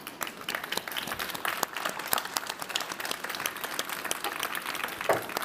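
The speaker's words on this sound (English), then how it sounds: "Can you all join me in giving my speakers a round of applause?" An audience applauds panel speakers at a live panel on philanthropy and design, with steady, dense clapping filling the whole stretch at moderate loudness and no talk over it.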